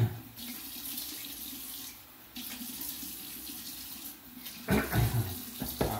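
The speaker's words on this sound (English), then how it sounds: "let me wet the face and get it going" Water runs from a tap into a sink before a shave, a close, steady splashing stream that briefly stops and restarts, with louder splashes near the end as hands scoop water to the face; no talk.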